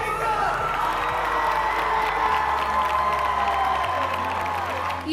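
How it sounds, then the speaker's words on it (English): An audience at a school event applauds and cheers loudly for a junior student, with sustained dense clapping and whoops filling the whole stretch without a break. "turn your attention to the center aisle and give a huge round of applause to Jacob!"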